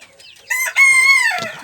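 Chickens and a rooster on a small backyard egg farm: soft clucks open, then a loud, close rooster crow rings out over about a second, with no talk.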